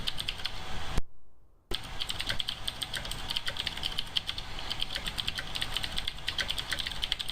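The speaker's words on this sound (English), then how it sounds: "I'm very jealous of your mechanical keyboard" Rapid clicking from a mechanical keyboard, dense continuous keystrokes up close with a brief drop-out near the start, no voices.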